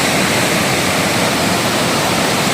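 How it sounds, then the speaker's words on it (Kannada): Waterfall at Penna Ahobilam roars as a dense, loud, steady rush of falling water, close and continuous with no voices. "We are going to falls."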